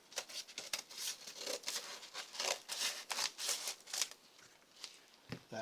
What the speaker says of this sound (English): try the safer route with scissors.